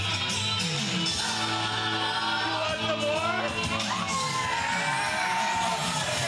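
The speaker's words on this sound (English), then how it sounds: "As Daddy Davis gets the reception from the home crowd here in the Royal City." A home crowd at a pro wrestling show in Guelph cheers and whoops steadily as a wrestler receives his reception, a dense, loud roar of voices with shouts rising over it.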